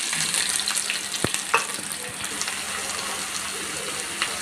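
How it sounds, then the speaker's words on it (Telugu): Onions frying in hot oil give a loud, steady close-up sizzle with a few sharp crackles and stirring scrapes, continuous throughout with no talking. "ఆయిల్ వేడయ్యాక ఉల్లిపాయలు,"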